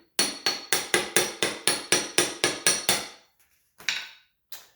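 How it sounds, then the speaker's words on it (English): About a dozen quick, evenly spaced metallic hammer taps on a socket driving a seal into a Honda B18B1 engine block ring out in a steady rhythm, followed by a pause and two more scattered strikes. "this one we'll just hammer until it bottoms out, and we'll use a socket to do this one"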